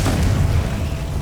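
A Confringo fire spell bursts in Hogwarts Legacy with a single deep, booming explosion that rumbles and slowly fades, loud and close.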